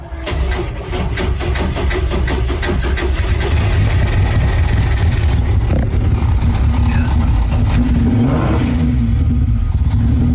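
A wrecked Lamborghini engine cranks with rapid starter pulses, catches and settles into a loud running idle nearby, with a brief rev near the end.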